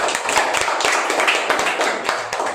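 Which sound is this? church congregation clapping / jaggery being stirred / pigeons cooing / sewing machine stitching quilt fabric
church congregation clapping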